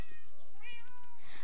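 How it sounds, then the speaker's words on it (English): A black cat in the Balloon Adventure video game gives a clear, close meow with a rising and falling tone, sounding alone and loud for about a second. "A black kitty!"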